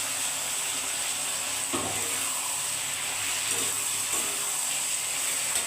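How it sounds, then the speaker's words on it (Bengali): Fried bitter gourd drops into a pan of sautéed potato masala, bringing a steady hiss of frying with a few louder bursts of sizzle and clatter as the pieces land. "আমি উচ্ছাগুলোকে ভেজে রেখেছি, আর উচ্ছাগুলো দিয়ে দিচ্ছি।"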